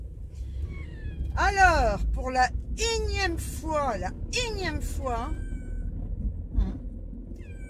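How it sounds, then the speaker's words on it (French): Several cats meow repeatedly inside a carrier on the way to the vet, a run of loud, rising and falling cries clustered close together, with a person speaking French between and over them against a low rumbling background. "Ils miaulent, donc ça me fait de la peine parce que ça les stresse."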